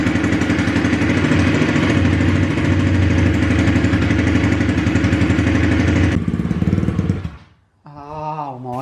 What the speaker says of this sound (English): We'll give it a little rev as well.